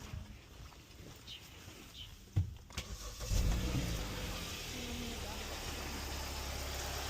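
A Hyundai car with a dead battery starts with help from a jump pack: a sharp click, then the engine cranks and catches, settling into a steady close idle while someone talks in the background.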